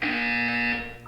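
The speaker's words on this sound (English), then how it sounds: "You will hear a buzzer." A buzzer in the Portal 2 video game sounds once as a steady, loud electronic tone lasting about a second, alone and close.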